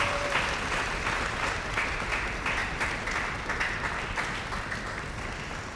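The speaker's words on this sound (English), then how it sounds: "So let's go ahead and give her a round of applause." A concert audience at a community school band and wind ensemble spring concert applauds the principal clarinetist soloist, producing a dense, even wash of clapping that holds steady for several seconds and fades slightly at the end.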